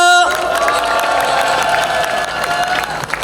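A rally audience at a citizens' assembly claps and cheers to welcome a union speaker. Steady applause with shouts and whoops runs throughout, with a sustained tone ringing over the crowd.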